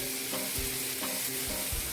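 Diced onions added to sausage in a hot pan for jambalaya, giving a soft continuous sizzle with a few spoon scrapes, fairly quiet and brief, no talking.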